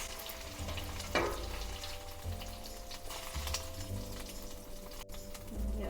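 Onion rings sauteing in a pan as part of a chicken adobo-style beefsteak dish, a steady close sizzle and frying hiss with occasional stirring scrapes, no talking.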